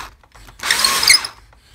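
A short burst of a power drill enlarging a hole in a bowie knife handle, rising and cutting off after about a second, close and fairly loud.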